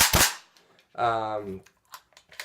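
A WE XM177 gas blowback airsoft rifle fitted with a real steel spring and buffer fires one sharp, loud shot, followed by a few fainter clicks, with a brief voice speaking in between.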